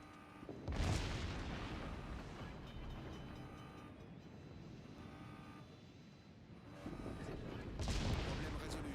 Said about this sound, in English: My team starts shooting them.